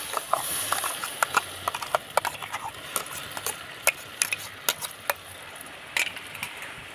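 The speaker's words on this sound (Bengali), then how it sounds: "এবার আমি ঘিয়ের সঙ্গে একটু নাড়াচাড়া করে ভেজে নেব।" Carrot paste stirred with a spatula in a wok of ghee: a quick, uneven series of sharp taps and scrapes against the pan over a quiet background, fairly faint and without voices.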